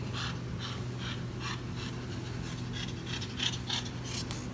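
A heavily pregnant cat nesting on the day she gives birth pants steadily, a rapid rhythmic breathing heard close up with soft rasping bursts through the whole stretch, no talking.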